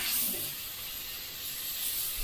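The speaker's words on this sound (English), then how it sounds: "if your brush isn't spraying right" A steady, soft hiss of an airbrush spraying paint runs continuously for a couple of seconds, close and even, with no voices.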